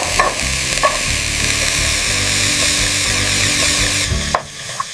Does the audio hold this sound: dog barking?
no